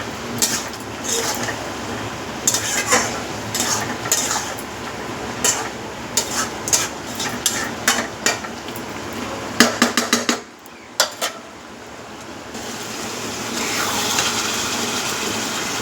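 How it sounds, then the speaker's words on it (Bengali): Meat being stir-fried with salt, turmeric and green chili, a run of sharp irregular clanks and scrapes of a utensil against the pan over a low sizzle, pausing briefly before a steadier frying hiss returns. "এবার এটাকে আমি সুন্দর করে কষবো।"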